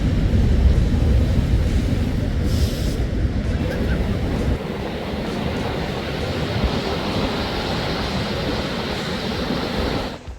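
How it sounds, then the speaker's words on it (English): Ocean surf crashes continuously at Rockaway Beach in Pacifica, a loud, steady roar of breaking waves with wind buffeting the microphone throughout. "at high tide, you will see some really cool crashing waves."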